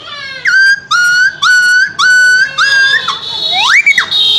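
A voice imitates a dog yelping after being struck by a stone, making five short, high whistle-like yelps in a row followed by one rising, drawn-out cry, close and clear with no other sound.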